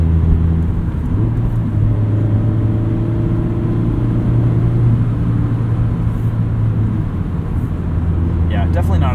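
A Mazda MX-5 Miata's engine drones steadily from inside the cabin while driving, a loud, even low rumble with road noise and no sharp revs.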